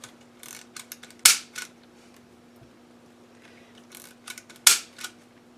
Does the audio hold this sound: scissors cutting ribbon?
yes